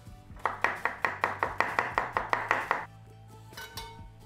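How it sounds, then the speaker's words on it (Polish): A knife slices a red onion into thin wedges with a fast, even run of about a dozen crisp chops on a board, followed by a few softer taps, all over a low hum. "Jedną czerwoną cebulę, którą pokroję w piórka."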